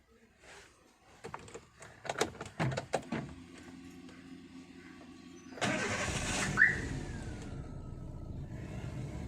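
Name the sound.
Chevrolet Beat car engine being started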